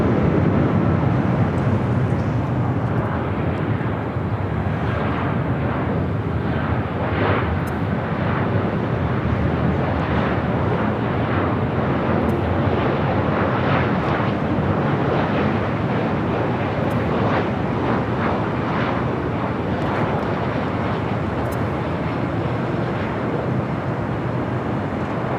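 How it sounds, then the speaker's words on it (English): Delta Boeing 767-400ER taking off from LAX, a loud, sustained jet engine roar filling the whole stretch with steady rumble and hiss, heard from the ground nearby. "Delta 767-400ER heading up here for north side at takeoff."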